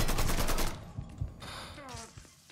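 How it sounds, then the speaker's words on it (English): Rapid machine-gun bursts from the video game Mafia 3, loud and dense at first, then a few scattered single shots among other game effects. A voice calls out during the firing. "Get me some covering fire"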